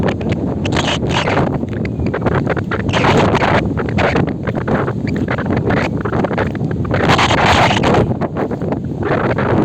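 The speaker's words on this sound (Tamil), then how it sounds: "காற்று பாருங்க, இங்கே சரியான காற்று" Strong wind across a 7-acre fenced open plot of land roars continuously across the microphone, a loud, steady buffeting rush with gusts swelling and easing throughout.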